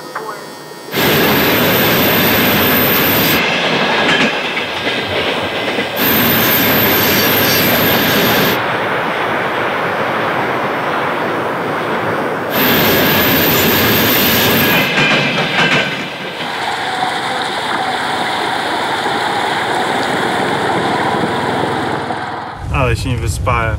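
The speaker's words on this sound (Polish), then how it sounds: "Co 5-10 minut jechał pociąg." A train rumbles loudly past nearby in frosty Russian Far East, with clattering wheels and high screeching squeals, the roar fading and surging before quieting near the end.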